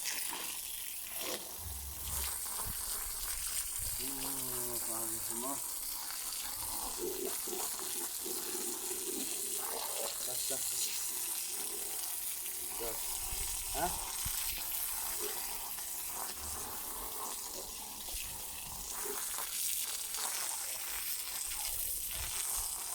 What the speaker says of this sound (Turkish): halı yıkıyorum